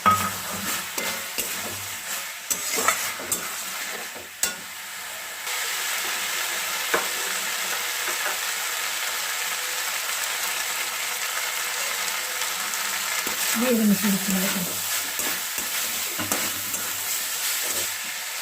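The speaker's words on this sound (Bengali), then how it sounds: "বাদামগুলো যে ভেজে রেখেছিলাম চিনে বাদাম সেগুলোকে মিশিয়ে দিচ্ছি" Fried peanuts being stirred into a cauliflower curry filling for singara in a pan, with a steady soft sizzle and hiss, occasional scraping of the spoon, and brief louder clicks.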